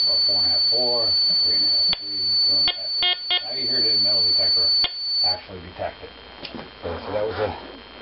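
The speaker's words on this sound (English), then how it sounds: "Now you hear the metal detector actually detect it." A hobby metal detector, a monitored HF unit, gives short electronic beeps as a coin is moved toward its coil, a few sharp pulses and a steady tone heard between stretches of someone talking.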